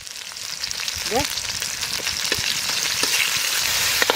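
Mango pieces with mustard seeds and salt fry in a pan, giving a continuous hissing sizzle that builds steadily louder, with a brief voice and a few faint clinks over it.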